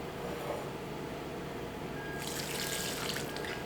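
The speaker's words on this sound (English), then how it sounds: "And then I'm going to add a little bit of the cooking water." Pasta cooking water poured into a blender for a vegan butternut squash mac and cheese sauce, a steady close splashing stream that grows brighter and stronger partway through, with no talking.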